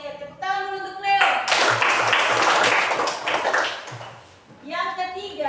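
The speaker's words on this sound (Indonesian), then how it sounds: "tepuk tangan dulu untuk Cleo" A classroom of students claps for a classmate in a short burst of scattered hand claps, framed by a teacher's voice talking just before and after.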